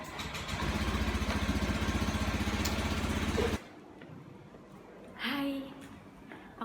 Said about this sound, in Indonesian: panasin motor dulu.